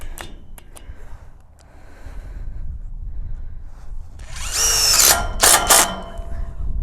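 Power drill driving a self-tapping screw into the frame of a portable horse shelter, with two short loud whirring bursts after quiet handling noise outdoors.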